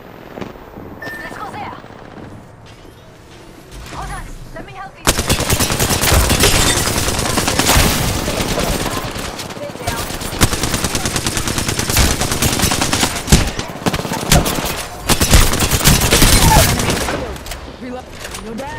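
Dense, continuous automatic gunfire and explosive bursts from a shooter video game match, loud and sustained after a quieter opening, with voices talking over the battle.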